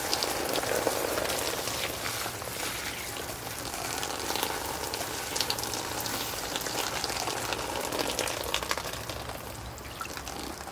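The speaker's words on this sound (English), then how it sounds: "Make sure you rinse the soil out thoroughly." Water rinses soil out of the roots of a ficus bonsai outdoors, a steady, close hiss of spraying and splashing water that runs without a break the whole time, with no voices.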